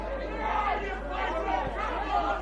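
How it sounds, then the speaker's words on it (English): Spectators at a Playford City versus West Adelaide football match shout a jeering chant together, a loud, ragged crowd cry rising and falling over a steady hum of chatter. "Where are you, Playford, is the cry from the crowd."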